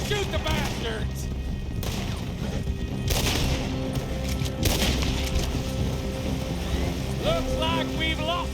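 Gunfire crackles through a shootout in Red Dead Redemption 2 during a river escape, with boat and water noise, dense rolling shots and impacts under shouted voices, loud and steady throughout.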